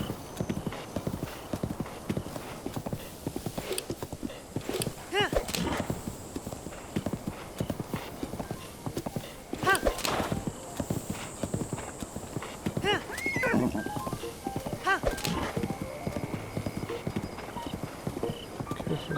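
Horse hooves clip-clopping at a steady gallop in the Zelda game Breath of the Wild, a dense rhythmic patter running throughout with occasional whinnies and someone talking over it.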